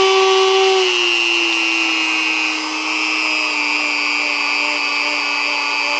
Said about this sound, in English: I'm going to take this emery style stuff here. It's like a foam